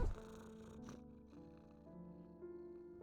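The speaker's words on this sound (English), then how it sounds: "he rubs my chin with the back of his head, purring with delight" A cat purrs softly and steadily in the video game Strange Antiquities, a low continuous rumble beneath quiet sustained tonal music.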